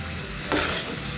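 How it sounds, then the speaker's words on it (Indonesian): Sugar syrup bubbling and thickening in a pan during candy-making, a steady close sizzling hiss that swells briefly halfway through. "Ya, ini sudah mendidih, sudah mengental."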